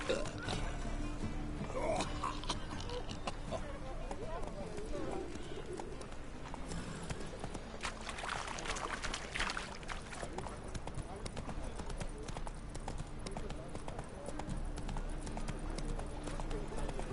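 Horse hooves clip-clop steadily in a video game, sitting under continuous game ambience with faint bird calls and other background sounds.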